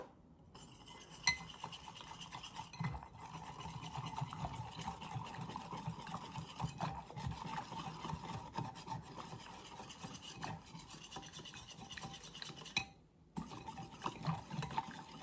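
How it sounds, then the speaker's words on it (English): Chicken stew ingredients for a slow cooker with white wine are whisked together in a bowl, a continuous close scraping and rubbing texture with brief pauses and occasional louder knocks, no voices. "Just put it in there, whisk it all together."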